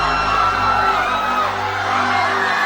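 Dense roar of a vast crowd screaming in horror, an audio-drama effect of ten thousand souls dying, a steady, loud wash of massed yells and whoops filling the whole stretch with no letup.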